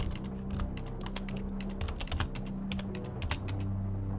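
Rapid keyboard typing on a computer terminal in the Stories Untold video game, a steady stream of close, crisp key clicks with short bursts and pauses, no speech.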